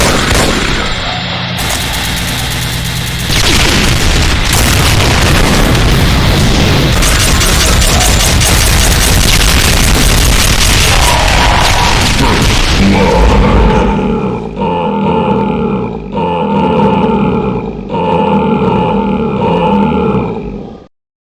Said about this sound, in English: charging up a 360 circling spread of firing wall-bouncing plasmatic cannon shots